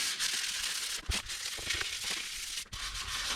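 Sandpaper rubbing over an epoxy seal coat on a Great Lakes map piece, a steady close scratchy hiss with brief pauses and shifts in stroke.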